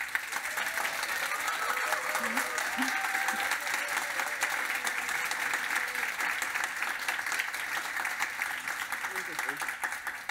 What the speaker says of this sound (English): This is your applause, and now the stage is yours.